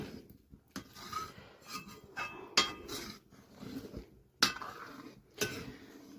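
A utensil stirs food in a pan at close range, making soft scraping and rubbing with a few sharp metallic clinks and knocks against the pan in a quiet kitchen.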